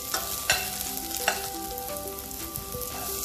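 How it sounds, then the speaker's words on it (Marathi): Ginger, garlic and green chili sizzle in hot oil while being stirred, a steady crackling fry broken by a few sharp scraping clinks of a spoon against the pan, with no talking. "आता ह्यामध्ये मी आलं लसूण आणि मिरची घालते।"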